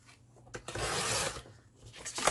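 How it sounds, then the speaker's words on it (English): A handheld paper trimmer slicing through a sheet of craft paper, giving one soft rasping slide of the blade that swells and fades over about a second, close and quiet, followed by a brief scrape. "So if I get my trimmer, I'm going to cut that just under 6 1/4."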